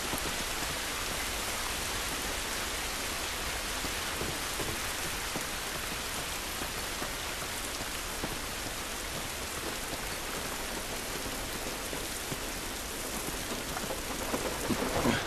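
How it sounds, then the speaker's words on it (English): Steady rain pours down in a video game scene, a dense, even hiss of falling water on surfaces that stays constant and fairly loud throughout, with no voices. "It's raining"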